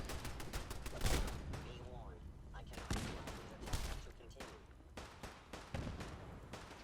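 Rapid bursts of machine gun turret fire crackle through a Fallout 4 firefight, dense and close, with a voice talking over the shooting.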